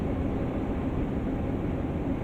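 Steam locomotive working under throttle in the Train Sim World game on the West Somerset Railway, a dense, steady rumbling roar with no distinct beats, loud and continuous throughout.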